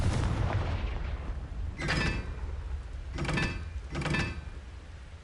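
Confringo fire spell cast in the Hogwarts Legacy video game: three loud explosive blasts burst out at steady intervals over a low rumbling game background, with no talking.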